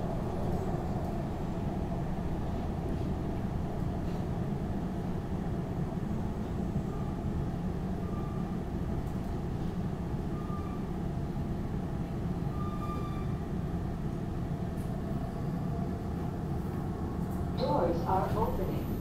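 A SEPTA Market-Frankford Line subway train rumbles steadily with a low, droning roar of motors and wheels, with faint squeals and a brief clatter near the end, while an automated voice announcement plays over it.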